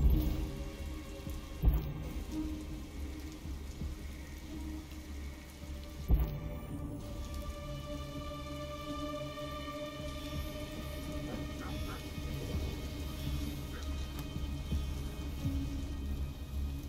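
Rain falls in the Detroit: Become Human video game, a soft steady patter under a low droning ambience, with two brief louder thumps early on.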